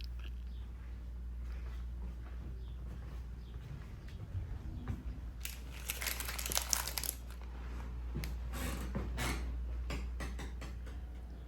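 Fried tortillas being packed into plastic bags: crinkling, rustling plastic bursts, loudest in the middle stretch, over a steady low hum in an otherwise quiet room.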